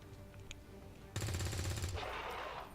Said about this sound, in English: You also might notice that the SMGs have a rather low to hit rate